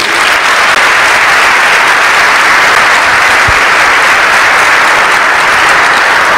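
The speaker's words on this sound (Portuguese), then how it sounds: "Você quer dar um aplauso ao Senhor por isso?" A church congregation applauds in a dense, steady burst of clapping that holds at full strength throughout.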